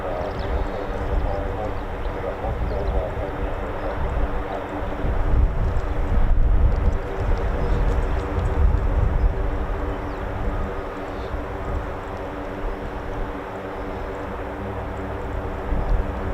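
A Lockheed C-5 Super Galaxy at RAF Mildenhall gives a broad, steady jet rumble that swells in the middle and then eases, with wind buffeting the microphone and a person talking over it.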